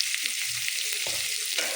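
Leftover rice being stirred and fried in a pan after salt is added, a steady soft sizzle with scraping stir strokes recurring every fraction of a second, close and without speech.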